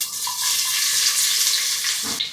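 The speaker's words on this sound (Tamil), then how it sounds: "தாளிப்புக்கு ஃபஸ்ட்டாக கடுகு உளுத்தம்பருப்பு சேர்த்துக்கிறேன்." Mustard seeds and urad dal sizzle and crackle in hot oil for tempering, a steady bright frying hiss that continues without a break.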